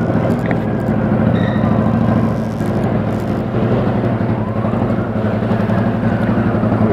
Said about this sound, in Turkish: Porsche gaza geldi kendi.